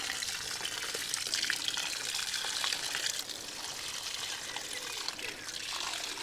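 Water pours steadily from close by into a strawberry plant pot, a continuous splashing trickle that keeps going for several seconds.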